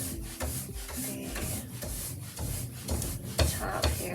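A cloth rubs brown decorative wax into the stained wooden top of a refinished furniture piece, soft rhythmic swishing strokes that are close and fairly quiet, repeating in an uneven back-and-forth pattern.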